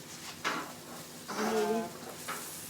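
Garlic sizzles in a pan for fried rice, a soft steady frying hiss broken by a few scraping stirs, heard up close at low volume.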